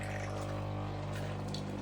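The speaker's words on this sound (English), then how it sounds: "now the water will be extracted out of the internal machine as you hear it and see it" A coffee maker pumps water out of its internal pipes to empty them for storage, giving a steady, close mechanical hum with a constant low drone under a continuous wash of running water and no voices.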